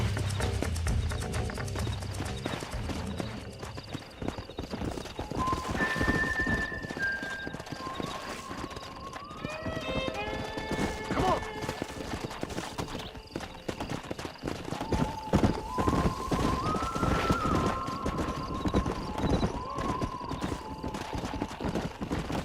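Horse hooves clip-clop in a steady rhythm in the Red Dead Redemption video game, with several drawn-out whinnies and neighs rising over the continuous hoofbeats and faint talk.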